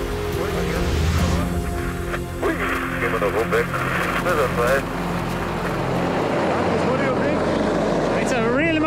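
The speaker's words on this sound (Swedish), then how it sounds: "Och det gäller att helikoptern står så still som möjligt." Helicopter hovering beside high-voltage power lines during line work in gusty wind, a loud steady rotor and engine drone throughout, with voices talking over it.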